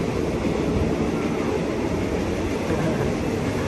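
Steady broadband rumble and rattling of an old passenger train in motion in Thailand, heard from inside a carriage, loud and continuous without voices.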